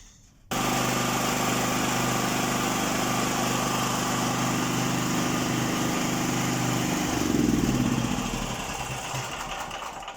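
A Hyundai HG-5500 portable generator engine starts cold abruptly and runs steadily at a loud, buzzing idle close by, with a brief surge in pitch near the end.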